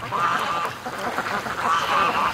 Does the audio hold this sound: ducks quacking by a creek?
yes